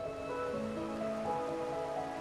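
Steady rain falling in the video game Wuthering Waves, a constant soft patter with faint tonal hum underneath, no voices.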